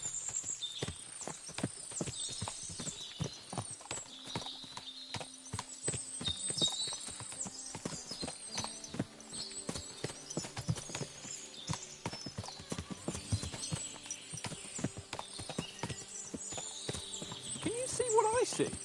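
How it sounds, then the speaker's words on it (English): Many horses in the video game Kingdom Come Deliverance 2, with steady hoof clip-clop throughout and occasional neighs and whinnies, while people talk over them. "What a lot of horses!"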